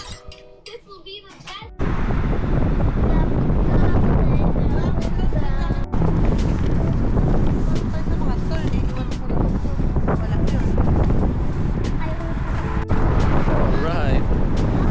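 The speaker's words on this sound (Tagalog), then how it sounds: "Lakas ng hangin." Strong wind roars and buffets the microphone continuously, a dense rushing noise that swamps everything, with a brief spoken word at the start.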